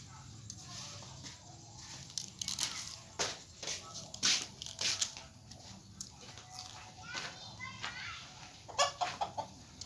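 Chickens cluck and call in short bursts from close by, mixed with a voice and other speech, in a busy outdoor yard setting.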